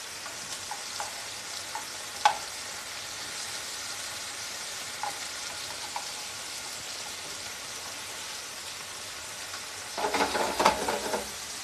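Garlic sizzles in a frying pan with scallops, a steady soft crackling hiss with occasional pops, growing louder near the end as the food is stirred.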